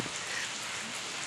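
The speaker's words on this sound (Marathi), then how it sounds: "पाऊस पण चालू आहे बाहेर" Rain falls outside in a soft, even patter, faint and continuous for the short moment with nothing else standing out.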